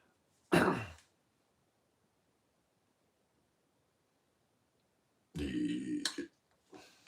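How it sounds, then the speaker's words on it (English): A burp after eating fajitas: one short, loud belch near the start, then quiet, followed by a longer voiced burst and a brief tail near the end. "Still burping up them fajitas"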